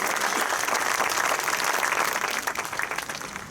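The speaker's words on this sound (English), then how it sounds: "let's give Mark a round of applause" A university audience applauds an absent alum named Mark Colon, a short burst of dense, even clapping that tapers slightly toward the end.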